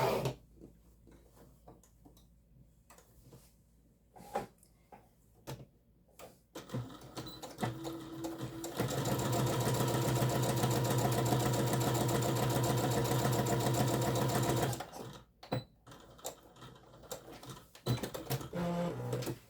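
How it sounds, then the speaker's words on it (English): A sewing machine stitches closed the turning gap of a fabric tablet case, its fast steady mechanical whir running loud and continuous for several seconds, framed by quieter handling clicks and pauses before and after. "So then we're going to want to stitch the turning gap so that it's stitched closed"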